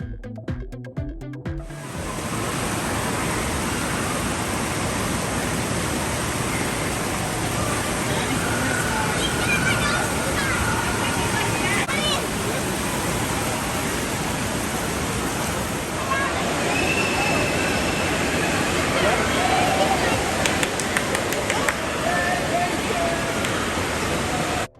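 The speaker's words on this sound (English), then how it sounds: "They had a big wave pool that simulates the ocean waves." Big wave pool at an indoor water park, its machine-made waves rushing and churning in a steady, loud wash of broadband noise that fills the whole stretch after a brief start.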